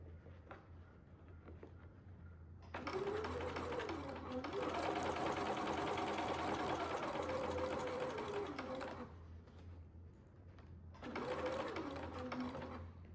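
A sewing machine stitches the strap of a sou'wester sun hat, running in a steady whirring burst for several seconds, pausing, then starting again, close and fairly loud.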